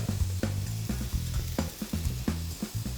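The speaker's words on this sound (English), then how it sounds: "These are grilling nicely, they're softening up." Zucchini and yellow squash grill in a pan, giving a steady close sizzle with repeated soft thumps and clatter as the vegetables are moved and spread out.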